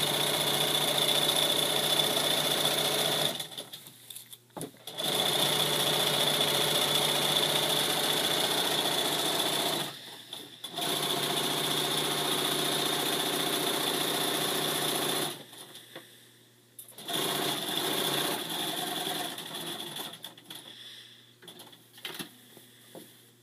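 Sewing machine stitching a pillowcase with wrong sides together, a quiet, steady whirring hum running in long stretches of several seconds, broken by brief pauses, close and alone with no talking.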